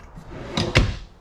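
Drawer space in a Big Country 3560SS fifth wheel trailer gives two quick, close thuds as a drawer slides and bumps shut, with a softer rattle leading in.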